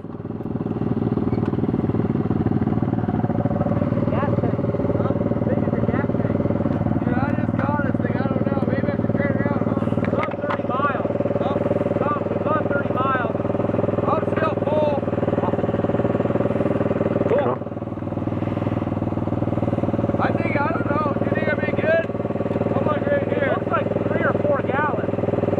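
Two WR250R motorcycles idle together after pulling in off the Steese Highway at a gold camp in Alaska, a loud, steady engine rumble with light mechanical clatter running the whole time under indistinct voices.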